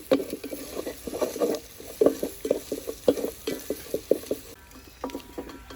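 Chunks of mutton fry in a masala paste for a chitti muthyalu mutton pulao, giving a soft sizzle under repeated scraping and stirring strokes of a spoon in the pan, steady and close.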